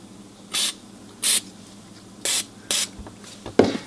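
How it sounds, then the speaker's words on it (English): Several short, sharp bursts of contact cleaner spray hiss into the volume control of a 1959 NuTone intercom one after another, with quiet pauses between them and a faint rustle at the end. "all you're going to do is spray a very, very small amount"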